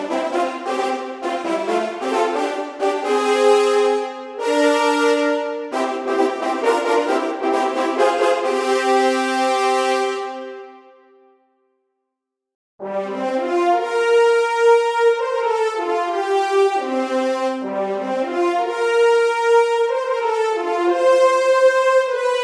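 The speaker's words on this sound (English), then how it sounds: "you get our favorite massive French horn ensemble ever" A massive ensemble of 20 French horns sampled in a large hall plays sustained, full chords in two long phrases. A brief silence separates the phrases, and there is no speech.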